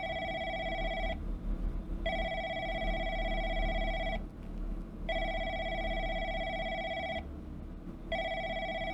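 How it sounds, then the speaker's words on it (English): An office telephone rings repeatedly in an even on-off pattern, each electronic trill lasting about two seconds with short pauses between, steady and fairly close, with no voices. "Is that the phone?"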